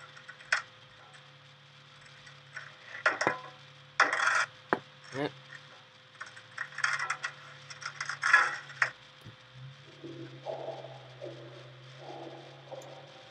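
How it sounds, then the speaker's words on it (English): Quiet metallic clinking footsteps in the horror game Five Nights at Freddy's: Sister Location, irregular ticking steps and small clanks scattered over a low steady hum, faint and alone with no talk. "I hear footsteps. Like, clinking noise."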